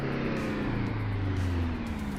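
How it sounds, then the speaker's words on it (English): A 1970s International Fleetstar 2070A logging truck with a straight-pipe exhaust, its engine giving a steady, rough, low drone that holds throughout. "It sounds like an old ass freaking farm truck."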